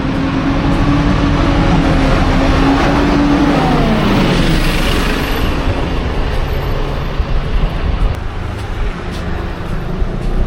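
City bus in Madrid's Centro street traffic, a loud steady engine roar with a rising whine and hiss as it pulls through, surrounded by continuous nearby road noise.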